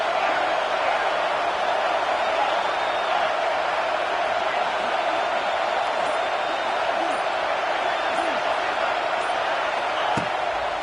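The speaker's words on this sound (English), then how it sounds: "Decibels rising as the crowd gets behind this defense on third down." A stadium crowd at a football game roars for the defense on third down, a dense, loud, continuous wash of cheering and noise that holds steady throughout.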